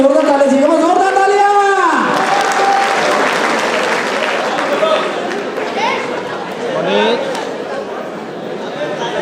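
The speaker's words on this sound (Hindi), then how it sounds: "जोरदार जोरदार जोरदार तालियां" Audience clapping at a company's employee annual day celebration, steady and fairly loud, with a voice singing or calling out over it at the start and a crowd chattering throughout.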